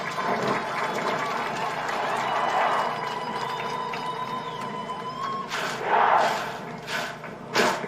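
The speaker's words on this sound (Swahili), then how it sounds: "tuwape makofi vijana hawa" A large crowd at an outdoor National Youth Service passing-out parade in Gilgil, Nakuru, claps in a sustained, fairly distant wash of applause, swelling briefly near the end, with some talk mixed in.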